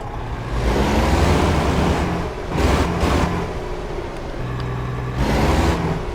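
A Kenworth truck engine in American Truck Simulator revs in a few rising, swelling bursts over a low idling rumble, heard close and without talk.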